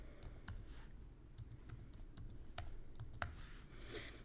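Keystrokes tapped out on a computer keyboard, a quick irregular run of sharp clicks close up, with no talk, over a low steady background hum.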